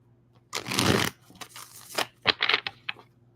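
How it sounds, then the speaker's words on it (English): Tarot cards being shuffled, a longer riffle followed by several short, crisp snaps and flicks of the deck, close up and quiet, with no talking. "One more shuffle."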